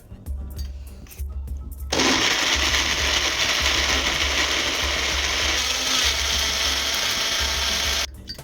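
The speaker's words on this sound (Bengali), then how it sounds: "চলো এবার মিক্সির জারে পিষে নেওয়া যাক।" A mixer grinder whirs loudly for about six seconds, grinding mint and spices with a little water in its jar, preceded and followed by brief clatter and handling.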